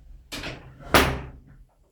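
A cave door at a monastery in southwest Chicago moves with a scraping open followed by a heavy, loud thud as it shuts, close by and with no talk.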